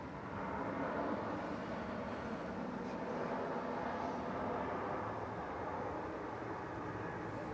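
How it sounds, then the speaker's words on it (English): An Emirates jet departs Melbourne Airport, heard as a steady, distant engine roar that holds a broad rumble throughout without breaks. "here's our Emirates outbound."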